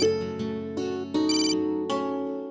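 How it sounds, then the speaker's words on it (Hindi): A phone ringtone plays a repeating melodic pattern in short bursts, clear and close, with no talking. "प्रिया का फोन।"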